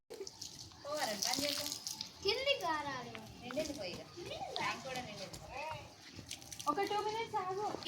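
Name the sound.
water filling a tub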